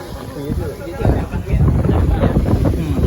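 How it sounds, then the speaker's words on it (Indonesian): Wind buffets a microphone outdoors among a large crowd at a religious sermon gathering, a low, rumbling gusty roar that swells after the first second, with faint voices underneath. "Oh, apa lah kena angin tu."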